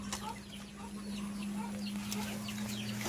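Chickens in a farmyard give scattered short clucks, several birds near and farther off, over a steady low hum, with no one speaking.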